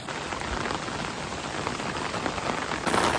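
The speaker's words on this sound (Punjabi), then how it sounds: "ਬਹੁਤ ਸਪੀਡ ਨਾਲ ਬਾਰਿਸ਼ ਹੋ ਰਹੀ ਹੈ" Heavy rain pours steadily outside a house during a flood, a dense continuous hiss of drops on surfaces with no gaps, close and fairly loud, swelling slightly louder near the end.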